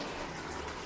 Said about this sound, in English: I'm going to fill up my bucket with hot water here.